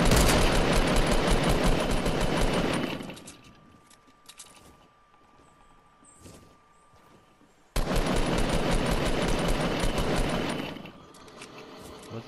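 Rapid automatic gunfire in a video game, a long sustained burst that stops, leaves a quieter stretch with a few scattered shots, then resumes as a second loud continuous burst and cuts off near the end.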